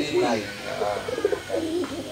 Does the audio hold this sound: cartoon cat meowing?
no